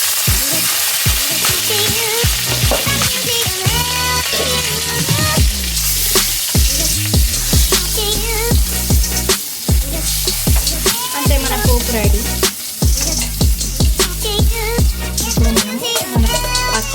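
Curry leaves sizzle and crackle loudly in hot tempering oil already holding mustard seeds, turmeric and asafoetida for pudina pachadi, a dense continuous frying hiss with rapid pops and spatters, close up and without talk.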